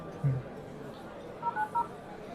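A cellphone keypad being dialed gives a few short tonal beeps in quick succession, faint against a busy indoor background with a soft knock early on.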